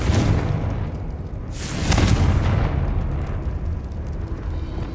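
A Confringo blasting spell explodes in the Hogwarts Legacy video game, a single deep booming blast swelling in the middle of a low rumbling game background, then fading into a lingering roar.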